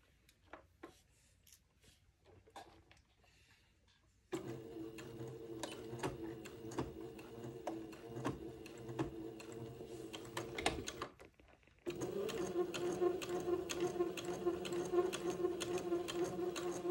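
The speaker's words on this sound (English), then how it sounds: "I'm going to stay stitch at the dot, and then sew to the bottom of the shorts" A sewing machine stay-stitches and sews down a boys' white button-on suit's shorts, starting after a quiet pause, running in a steady close whir of rapid stitching, briefly stopping, then resuming louder and faster.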